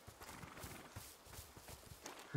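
Horses in the medieval video game A Plague Tale: Innocence snort and shift, with soft repeated hoof clops and breathy nasal blowing at low volume, steady and close, with no speech over them.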